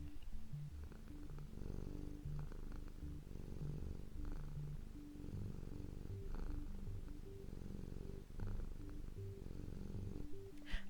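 A pet cat purrs close up, a soft, steady, continuous rumbling purr with a regular in-and-out rhythm that runs on its own for about eleven seconds.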